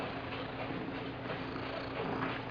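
A cat purring softly and steadily, a faint continuous low rumble with gentle rhythmic pulses and no voices over it.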